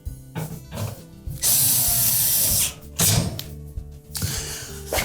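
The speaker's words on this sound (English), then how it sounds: "Then we'll install the single screw at the very bottom." A ratchet clicks in quick bursts while tightening screws on the back panel of a GE range, close and loud, with short pauses between strokes.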